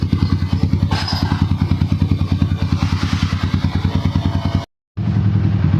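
A Yamaha motorcycle engine, upgraded from 149cc to 183cc, idles loudly up close with a rapid, even thumping beat, cutting out briefly near the end before resuming.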